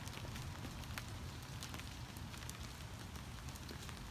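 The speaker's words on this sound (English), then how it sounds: "and of course it's raining." Rain falling outside on a studio's wooden deck, a steady dense patter with scattered brighter drops, quiet and continuous for the whole stretch with no voices.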